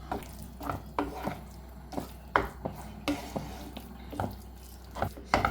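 Scrambled egg stirred into a mixture in a cooking pan with a spoon: a rhythmic series of soft scraping and tapping strokes against the pan, close and fairly quiet, with a faint sizzle underneath.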